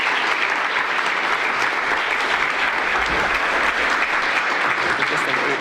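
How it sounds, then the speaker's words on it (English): A full audience applauds steadily at an education forum on educational disparities in Wisconsin, a dense, continuous wash of clapping that holds at an even level for the whole stretch without breaks. "Please give Mr. John Ashley a round of applause."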